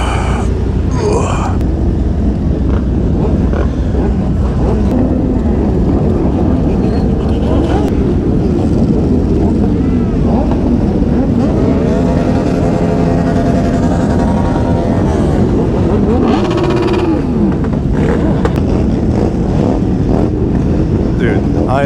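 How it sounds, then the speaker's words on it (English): Motorcycle engines rumble and rev together at a group ride, a loud, continuous low drone with rising and falling throttle pitches, and wind buffets the microphone. "Everybody's already cranking their hogs."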